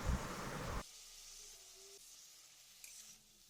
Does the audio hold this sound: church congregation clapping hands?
no